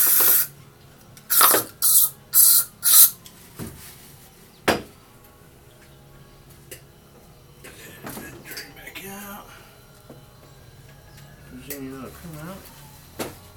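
Several short, loud hissing bursts of an aerosol cleaner sprayed into a lawn mower engine in quick succession, followed by quieter clanks and handling noises.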